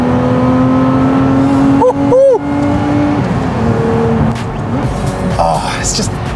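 The V6 engine of a Lotus Emira with a manual gearbox drones and rises from inside the car, with a quick rev blip during a downshift and shifting engine notes as it pulls away. Someone talks over the engine noise.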